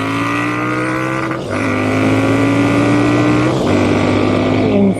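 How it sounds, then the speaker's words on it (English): A Triumph Speed Twin 1200 motorcycle fitted with an Italian Zard exhaust pulls hard through the gears, its loud, close engine note climbing in pitch, dipping briefly at each shift, then rising again. "It's a wonderful motorcycle."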